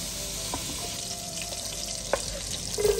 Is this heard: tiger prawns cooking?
yes